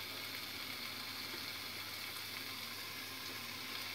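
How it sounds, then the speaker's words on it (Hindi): Kasuri methi fries with tomatoes in a pan, giving a soft, steady, continuous sizzle that stays faint and even throughout with no talking. "मैंने कसूरी मेथी इसमें डाल दी है। अब हम पहले इसे भूनेंगे।"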